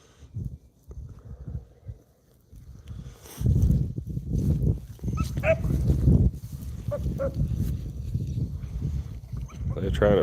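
Rabbit hounds out hunting in the wild bark and yip intermittently at a distance, mixed with rustling and someone talking over the scattered calls.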